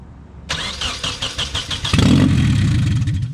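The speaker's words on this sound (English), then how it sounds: "but the car started." A Nissan 240SX S14 engine cranks with a rapid starter whir for over a second, then catches and settles into a loud, steady running rumble close by.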